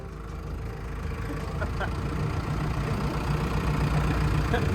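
Mercedes Vario van with no windows, interior or front windshield, engine running on a short drive: a steady, low rumbling drone that builds slightly in loudness, heard close throughout.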